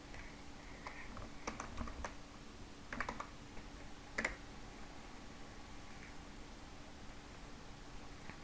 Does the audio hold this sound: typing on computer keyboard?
yes